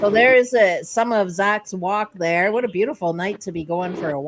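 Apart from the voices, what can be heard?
No distinct noise like a dog, phone or traffic.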